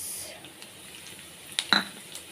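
A utensil stirring garlic cloves, curry leaves and urad dal frying in oil in a pan, with a faint steady sizzle and a couple of sharp metallic scrapes and clinks near the end.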